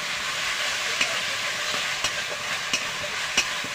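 Spices, ginger paste and grated tomato sauté in a pan for chicken biryani, with a constant close hiss and sizzle and a few sharp scraping taps from stirring, with no voices.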